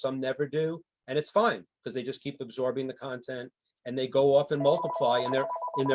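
A telephone rings with a steady electronic tone near the end, under continuous close talk from a person speaking.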